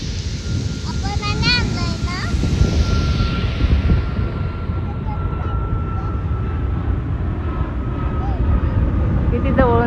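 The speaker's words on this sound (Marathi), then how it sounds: "किती जवळून चालले ते प्लेन." A low-flying airplane roars overhead near Juhu beach, a broad continuous rumble that stays steady throughout, mixed with wind buffeting and a voice and other voices talking over it.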